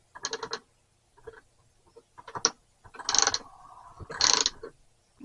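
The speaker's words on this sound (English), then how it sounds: "Let's put that on a wrench. Keep turning it in." Wrench tightening a pipe fitting, a few short, close metallic ratcheting and scraping bursts separated by quiet pauses.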